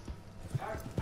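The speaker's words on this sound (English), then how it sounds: "Hang on, I'm on my horse." Horse hooves clip-clop at a steady trot in the open-world Western video game Red Dead Redemption 2, several soft thuds close by over a low game ambience.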